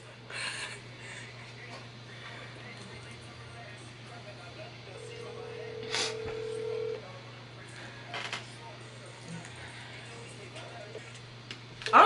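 A phone call being dialed out, with one steady ringing tone held for about two seconds midway over a constant low hum and room noise, plus faint muffled voices in the background.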